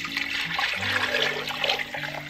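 Water poured into a crock pot over chopped vegetables, a close, full splashing pour with gurgling and a rushing stream, accompanied by low humming tones in the background.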